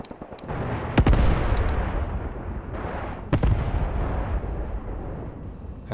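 Artillery barrages in the war game Graviteam Tactics: heavy booming reports and rolling blasts at irregular intervals, loud and close, over a constant rumble of distant shellfire.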